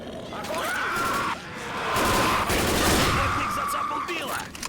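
Rapid gunfire in the zombie shooter Left 4 Dead rattles in dense bursts, loud and close, with a brief break before the shooting picks up again.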